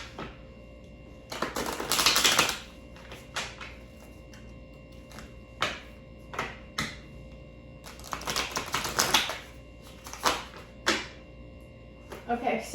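Tarot deck being shuffled by hand, with repeated bursts of riffling and snapping cards, two longer flurries and several short taps in between, close and moderately loud.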